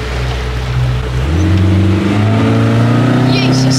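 Motorboat engine accelerating out on the water while fishing for perch, a loud close roar rising in pitch as the throttle opens, with people talking over it.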